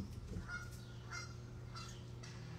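Geese honking near their goslings, several faint honks spread across the clip, distant over a low steady background hum with no talk.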